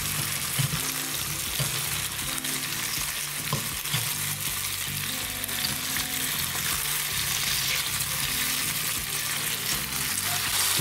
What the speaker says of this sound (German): drehen wir sie um und lassen sie von der anderen Seite auch noch anbraten